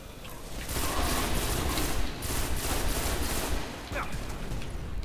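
Video game gunfire in a team shooter match: dense, continuous bursts of automatic weapon fire and rapid shots, loud and close, sustained throughout with brief dips.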